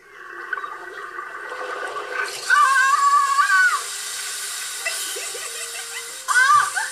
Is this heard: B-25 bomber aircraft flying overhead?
no